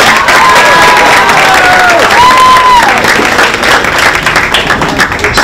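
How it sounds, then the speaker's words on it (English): A school audience at a Martin Luther King Day young scholars event applauds and cheers loudly and steadily, with whistles and excited shouts rising over the dense crowd clapping throughout. "Can you guys just please give her a round of applause?"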